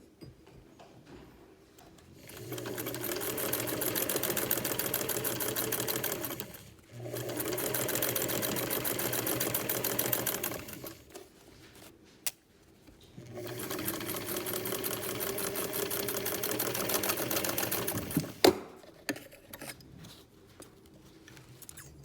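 A sewing machine stitching small stitches at 10 per inch runs in three sustained bursts with short pauses between them, heard up close with no talking.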